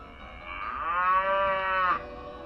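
A single long, loud cow moo from a cowshed, rising in and holding steady for about a second and a half before cutting off, set in a told animal story.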